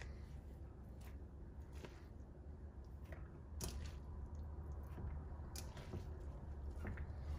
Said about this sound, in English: Now we need to add in our noodles.